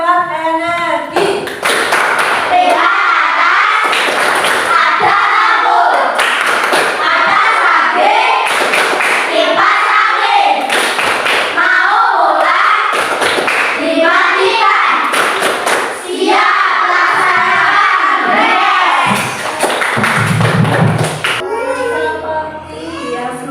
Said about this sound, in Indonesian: sebelum kita pulang mari kita tepuk hemat energi